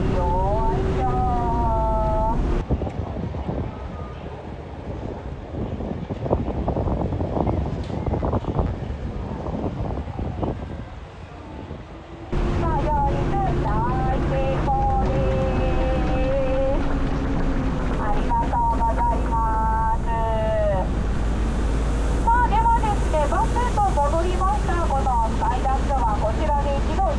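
Sky Duck amphibious bus in Yokohama's Minato Mirai climbing out of the harbor onto land, a steady engine drone with splashing water and wind buffeting the microphone, while a guide talks and sings over it throughout.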